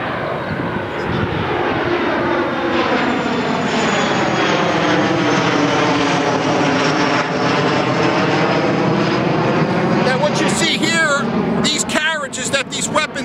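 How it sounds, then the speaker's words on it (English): An airplane drones loudly overhead at Fort Mifflin in Philadelphia, a broad steady engine roar that shifts in pitch as it passes and holds across the whole stretch, with a voice speaking faintly underneath. "There's a plane going over."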